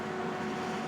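A running air fryer gives off a steady, even whir, close and constant throughout a very short moment with no other sounds.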